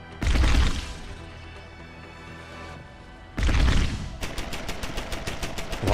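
A turret firing in Deus Ex: Human Revolution, a loud heavy burst, a lull, then another burst that breaks into rapid, evenly spaced automatic shots, close and sharp.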